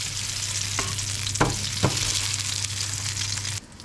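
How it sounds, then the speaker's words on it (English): Close, continuous sizzling of food in hot oil with a low electrical hum beneath and a few clinks of a utensil, cutting off near the end. "It's gonna be sizzly."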